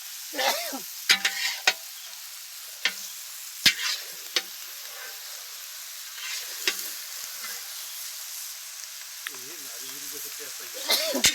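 Chicken sizzling as it is stir-fried in a wok, with sharp metallic scrapes and clanks of a utensil stirring at irregular intervals, close by, over a steady background hiss.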